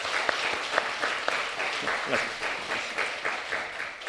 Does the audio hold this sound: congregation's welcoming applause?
yes